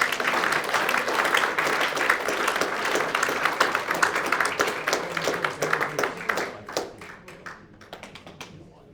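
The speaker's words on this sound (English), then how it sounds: "Another round of applause, please." An audience at a book launch bursts into loud, dense applause up close. The clapping keeps going for several seconds, then thins out into scattered claps and fades away.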